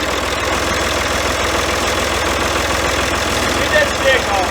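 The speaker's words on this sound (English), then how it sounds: "let me go get the tractor started" Tractor engine idling steadily and close by, a low continuous rumble that holds through the whole stretch, with some faint background voices.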